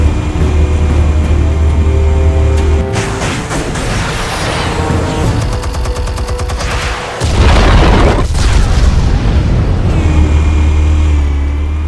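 A heavy boom from armed explosives detonating in Batman: The Telltale Series rolls out under a low rumbling drone, with a deep burst around the middle and a sustained roar continuing afterward, no talk.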